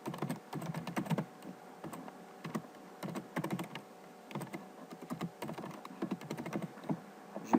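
Steady typing on a computer keyboard, quick irregular clacking keystrokes in short bursts, faint and close, with no voices.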